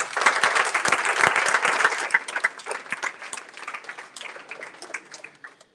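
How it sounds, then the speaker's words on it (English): A round of applause from an audience at the unveiling of the WSICE gallery, loud and full at first, then thinning into scattered individual claps that fade out toward the end. "A round of applause."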